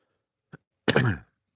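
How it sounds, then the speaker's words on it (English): A tiny throat click followed by a single short, rough cough, close up in an otherwise quiet room. "I've been coughing all day today."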